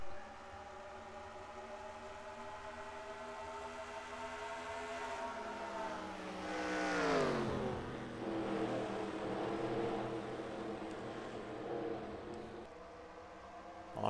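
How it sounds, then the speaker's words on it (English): NASCAR-style stock cars in a racing video game at Pocono drone with a steady, high engine whine whose pitch sweeps down midway and then holds, with no talk. "They're now drag racing down the back into turn 2."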